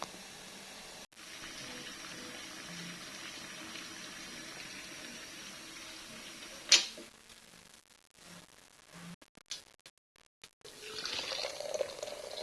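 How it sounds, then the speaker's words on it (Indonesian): Water poured from a tap or kettle into a cup of Milo chocolate drink with sugar, a steady close pour that stops midway, followed by brief clinks and a renewed stream near the end. "Udah ada gulanya juga, tinggal dituang airnya."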